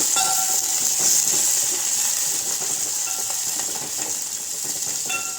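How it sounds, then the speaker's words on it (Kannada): Dry chilies, crushed garlic, cumin and curry leaves sautéing in hot oil for jowar rava ganji, a steady close sizzle with faint stirring scrapes throughout, no talk. "ಸ್ವಲ್ಪ ಕರಿಬೇವು ಸೊಪ್ಪು ಹಾಕೊಳ್ಳಿ ಅದನ್ನು ಚೆನ್ನಾಗಿ ಬಾಡಿಸ್ಕೊಳ್ಳಿ"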